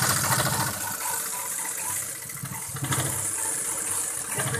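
A sewing machine runs steadily while stitching fabric for a baby nightdress, giving a continuous mechanical whirring rattle with a slight dip in the middle before picking up again.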